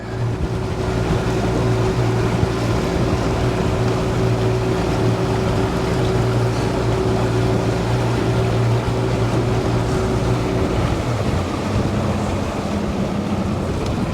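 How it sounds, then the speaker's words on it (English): A boat's electric trolling motor hums steadily on open water in strong wind, a constant low drone under wind and wave noise that shifts slightly near the end. "I guess we're gonna go to using the trolling motor here"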